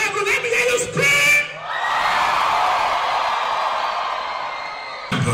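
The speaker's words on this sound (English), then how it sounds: "If you know you love Zoe Abu, let me hear you scream" A comedy show audience at NDU bursts into loud, sustained screaming and whooping that swells after a brief spoken lead-in and carries on as a dense wall of crowd noise for several seconds.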